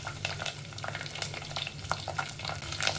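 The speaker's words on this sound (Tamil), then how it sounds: "கொஞ்சம் கடுகு கொஞ்சம் வெந்தயம் போட்டு தாளிச்சுக்கணும் கொஞ்சமாக கருவேப்பிலை சேர்த்து பூண்டு சேர்த்து" Mustard seeds, fenugreek, curry leaves and garlic sizzle in hot oil as a tempering for vaththa kuzhambu, giving a dense continuous frying hiss with rapid pops and spatters throughout, close and unbroken by any voice.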